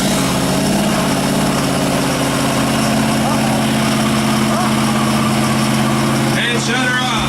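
A car engine roars loud and sustained during a ten-second burnout contest at a car show in Weyauwega, Wisconsin, a steady droning rumble that shifts near the end as a crowd voice cuts in.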